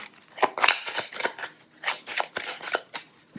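Oracle cards being shuffled by hand, a run of quick, crisp riffling bursts in an irregular rhythm, close and fairly loud.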